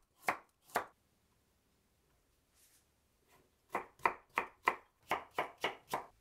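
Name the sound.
knife cutting carrots into julienne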